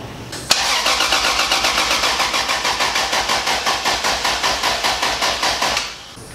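An 800 hp Toyota Supra engine running on ethanol cranks with a sharp opening click, then a long, loud, rhythmic starter churn of even pulses that winds down near the end without clearly catching.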